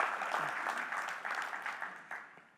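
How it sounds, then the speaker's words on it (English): Brief, fairly quiet applause from a crowd at a photography expo talk, a thin patter of clapping that tapers off over a couple of seconds. "All right, round of applause."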